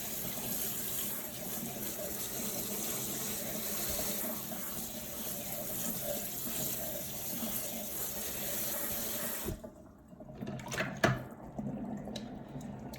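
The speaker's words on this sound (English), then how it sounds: "a quick rinse just to get some of that dirty water and some of that leftover lanolin in there" Tap water runs steadily into a sink while freshly washed wool is rinsed of dirty water and leftover lanolin, then the flow cuts off, leaving a few faint drips and splashes.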